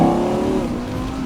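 A Lamborghini-derived 5.2-litre V12 revs hard right behind the cabin with the rear window lowered, a loud, steady engine roar that eases off slightly toward the end.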